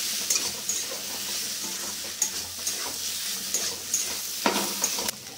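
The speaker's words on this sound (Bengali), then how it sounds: "একটু কষিয়ে নেব।" Spices with Kashmiri chili powder sautéing in a pan for a vegetarian dal, a steady close sizzle broken by scraping stirs of a utensil against the pan, with no talk.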